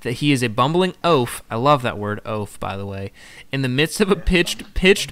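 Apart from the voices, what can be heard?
No distinct noise like a dog, phone or traffic.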